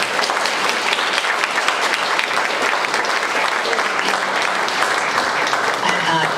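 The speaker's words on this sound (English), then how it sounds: "I agree with those of you who've clapped" Ceremony audience applauds a Charter Day honorary doctorate announcement, dense sustained clapping from a large crowd, loud and steady throughout.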